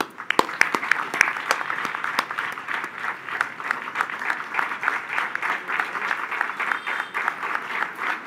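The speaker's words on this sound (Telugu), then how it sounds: "క్లాప్స్." An audience at an honouring ceremony breaks into dense, sustained applause. It starts with a few sharp individual claps and quickly fills out into an even wash of clapping that lasts throughout.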